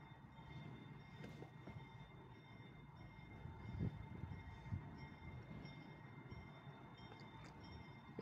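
A freight train carrying gondola cars rolls past at a distance, a low steady rumble of wagons with faint wheel clatter and a thin squeal, quiet and even throughout with no talk.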